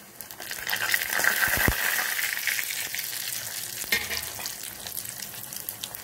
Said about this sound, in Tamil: எண்ணெய் சூடாயிடுச்சு, நம்ம இப்போ ஒரு இதில் கடுகு உளுந்து சேர்த்துக்கலாம்.